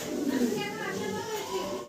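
A pair of fancy pigeons coos softly nearby in a loft while someone talks over them, with faint children's voices in the background of the short clip.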